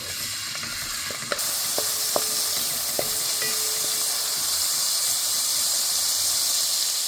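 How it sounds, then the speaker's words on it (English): Two tablespoons of garlic, chili and ginger paste sauté in two tablespoons of oil over medium heat for lamb samosa filling, a loud steady sizzling hiss with a few light stirring clinks early on. "adding 2 tablespoons of oil to a pan on medium heat along with 2 tablespoons of garlic, chili and ginger paste, which we will saute for 1 minute"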